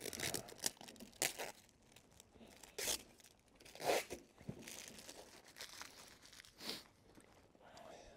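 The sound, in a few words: peeling off adhesive tape from a greenhouse tarp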